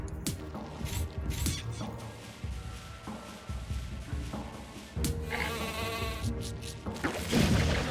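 Repeated sheep bleats from a sheep transformation in the Phobies video game ring out over layered game sound effects, wavering and tonal, recurring several times over a busy, continuous backdrop.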